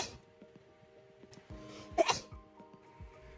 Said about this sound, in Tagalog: Bahing ng bahing.